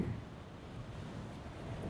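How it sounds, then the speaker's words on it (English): Low, rumbling wind buffets the microphone steadily, a dull muffled roar with no voices. "There's a good amount of wind."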